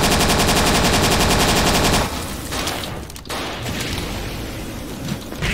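Rapid automatic-sounding gunfire from the Dino D-Day video game, loud and dense for about two seconds, then dropping to a quieter mix of scattered shots and battle noise.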